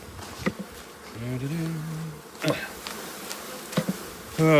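Honeybees swarm and buzz loudly inside a shipping package as the box is shaken, the dense droning hum punctuated by sharp knocks and thumps of the container.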